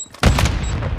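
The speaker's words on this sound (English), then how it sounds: "Throwing Semtex." A Semtex grenade goes off in a battle-royale video game: one sudden loud blast, close by, followed by a rumbling, crackling decay.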